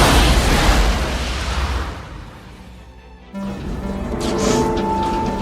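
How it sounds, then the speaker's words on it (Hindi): A loud, roaring rocket explosion dramatizing the Apollo 13 blast opens with a heavy rumbling burst that decays over about two seconds, then gives way to a low tonal hum and a lingering echo. "अचानक से इन्हें एक बड़े धमाके की आवाज सुनाई देती है"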